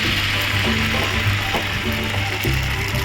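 Batter for patishapta frying in a hot pan of mustard oil, a loud, continuous close-up sizzle with faint scraping and clicking as it spreads.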